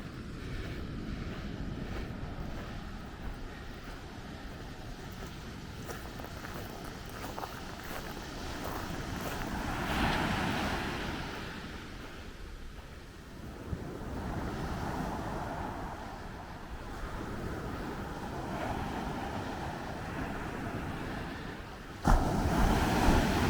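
Waves wash ashore at a quiet beach in St. Augustine, Florida, a steady broadband surf roar mixed with wind buffeting the microphone, swelling and easing over time, with a sudden louder gust near the end.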